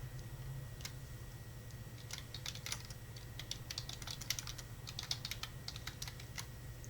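Soft, irregular clicks of typing on a computer keyboard run throughout, quiet and close over a low steady hum, with no talking.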